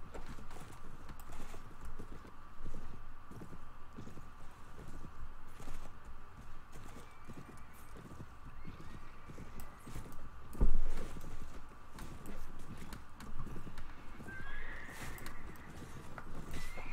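Horses in the Mount & Blade video game, Floris mod, charge with steady clip-clop hoofbeats and an occasional whinny, loud and continuous over a noisy battle with no talk.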